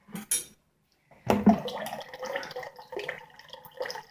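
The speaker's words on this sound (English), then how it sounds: "So I'm going to pour half of this batch in here" Jun tea from a concentrated batch is poured into a glass jar rinsed with vinegar, giving a short clink, a pause, then a close burst of liquid splashing that settles into an uneven gurgling pour with light glassy knocks.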